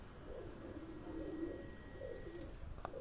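Faint, continuous low cooing from pigeons in a rooftop loft in Rawat murmurs steadily for a few seconds over soft background noise, with no one talking.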